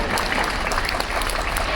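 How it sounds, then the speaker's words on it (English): An audience at a Royal Caribbean cruise ship show claps in sustained, dense applause that fills the space evenly and loudly, with no voices standing out. "That's when you applaud."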